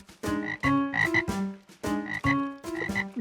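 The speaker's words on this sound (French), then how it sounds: "Des grenouilles." A chorus of cartoon frogs croaks in a bathtub, loud, close, rhythmic bursts of deep, throaty croaks repeating in quick pairs.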